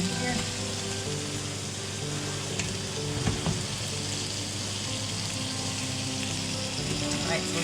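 Bacon frying in a pan, a loud continuous sizzle and crackle that runs throughout, with a few light knocks.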